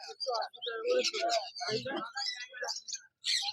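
At a pet market in Serampore, caged diamond doves and other birds give busy chirps and calls, up close and mixed with someone talking.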